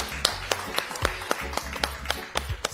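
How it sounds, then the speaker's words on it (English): Townhall audience applauding, a thin scattering of separate claps at an uneven rhythm over a low background hum, moderately near and not very loud. "Ladies, another round of applause."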